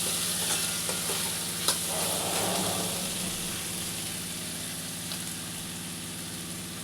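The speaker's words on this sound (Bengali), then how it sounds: "সবজিগুলোকে ভালো করে ভেজে নিয়ে আমি ফেরত আসছি।" Mixed vegetables stir-frying in a pan for veg chowmein, a steady close sizzle with occasional utensil scrapes and clinks, no talking.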